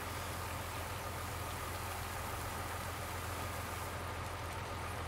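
Steady hiss of rain falls in the farming game Farming Simulator 19, a constant wash of noise with a low engine-like hum beneath it, unchanging throughout.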